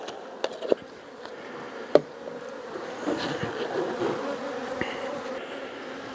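Honey bees buzz steadily inside a cup, a dense droning hum with a few sharp knocks and taps early on.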